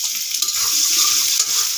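Cooking oil poured into a hot pan of chopped onion gives a loud, close, steady hiss and sizzle that runs unbroken throughout, with no one talking.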